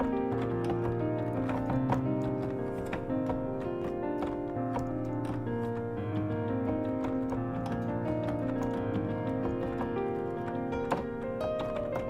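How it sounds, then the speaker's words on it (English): Rapid, steady typing clatters on a programming keyboard, with dense, continuous keystrokes heard close up over a constant tonal hum. "We got the goated programming keyboard"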